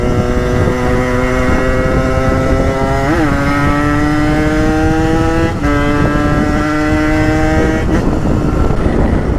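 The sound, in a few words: motorcycle engine running and revving during carburetor tuning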